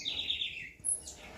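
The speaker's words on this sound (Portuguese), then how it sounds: "Os passarinhos estão felizes, gente. Choveu, olha só como eles cantam." Small birds chirp and tweet in high, bright bursts after rain near two jabuticaba trees, a quick run of repeated notes followed by a higher call, close and clear with no talking.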